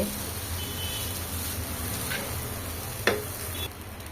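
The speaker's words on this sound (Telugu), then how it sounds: "తగినంత అన్నం అయితే వేసేసుకొని కలుపుకోవడమేనండి ఇలాగైతే కలిపేసుకోవాలండి" Cooked rice being stirred into tomato rice in a pan, a steady scraping and soft sizzling texture throughout with one sharp clink of the spoon near the end.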